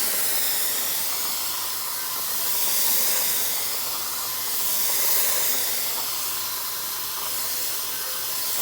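A Wagner Control Painter sprayer spraying Valspar paint on setting 5 gives a steady, loud hiss without pause, swelling slightly a couple of times, with no voices.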